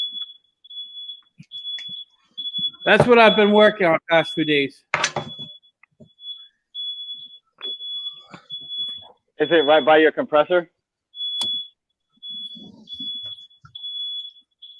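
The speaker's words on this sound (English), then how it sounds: "Peapod truck backing up." A delivery truck backs up outside, its high-pitched reversing beeper repeating in a steady, regular pulse throughout. Two people talk in the foreground over the beeping.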